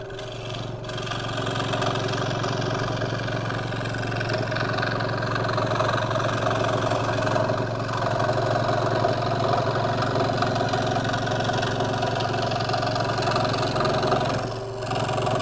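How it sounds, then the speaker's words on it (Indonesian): A Wipro scroll saw cutting through a Blockmin board, giving a steady motor hum with a fast buzzing reciprocating blade, loud and close, continuous for the whole stretch with no talking. "Saya pengen kasih lihat cara penggunaannya mesin scroll saw ini seperti apa"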